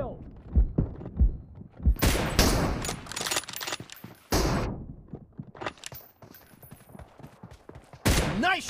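Video game gunfire from a BGMI team deathmatch: sharp bursts of shots in several clusters, loud and close, with game voice callouts in between.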